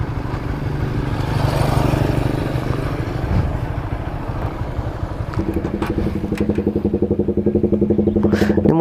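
A motorcycle engine runs close by, a loud rough rumble that settles into a steady, rapidly pulsing idle in the second half.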